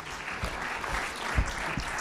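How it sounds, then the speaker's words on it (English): An audience at a National Press Club luncheon claps steadily in a brief, dense burst of applause. "Thanks for the applause"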